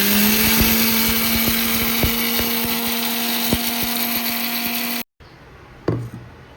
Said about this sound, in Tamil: உளுந்தும் வறுத்து வச்சுருக்கிறேன், அதை இப்போ பொடி பண்ணிக்கிறேன். நைஸாக அரைச்சிக்கணும்.